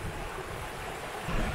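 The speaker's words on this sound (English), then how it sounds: "So this is Black-a-Ven Brook" Black-a-Ven Brook runs over the open moorland of Dartmoor, heard as a steady broadband rush of flowing water mixed with wind buffeting, continuous and fairly loud throughout with a slight swell near the end.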